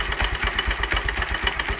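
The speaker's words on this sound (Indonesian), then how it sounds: "bunyi rantai keteng ya." A Yamaha Megapro motorcycle engine idles close by with a fast, steady rattling tick from a worn timing chain running through its rhythmic chug.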